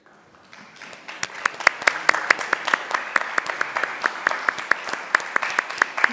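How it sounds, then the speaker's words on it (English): A congregation at a Shabbat worship service claps together, sparse at first and swelling into steady, fairly loud applause with distinct sharp claps standing out near the front. "please rise so that we can give you a round of applause for your dedication and generosity"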